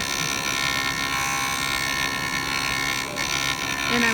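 A polishing wheel lays a satin finish back onto a steel watch case where a nick was removed, giving a steady electric whine that holds throughout, with a slight rise near the end.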